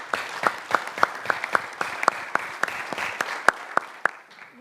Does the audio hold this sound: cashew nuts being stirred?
no